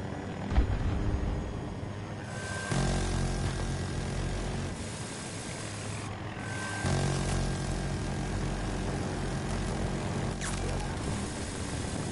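A helicopter flies in the Battlefield 2042 video game, its steady rotor and engine drone holding throughout at moderate volume, with a few abrupt shifts in tone as the in-game view changes.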